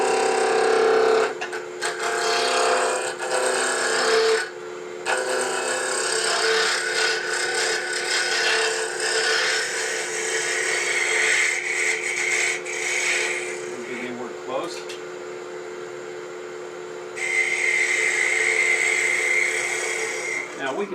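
A power drill whirs steadily for a long stretch as it bores a hole in wood in a workshop, with grinding and rasping shifts in pitch and brief pauses.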